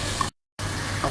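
Onions and green peppers sizzle steadily in a hot pan, a dense, close frying hiss that drops out briefly in the middle before resuming just as loud.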